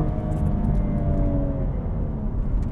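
A BMW M135i engine under way, a loud, dense, throaty drone with steady low rumble and slight rising pitch, heard close from inside the car with no talk over it.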